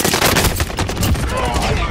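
Rapid video-game gunfire, loud and close, with repeated automatic bursts hammering in a steady rhythm through the whole stretch and no clear gaps between volleys.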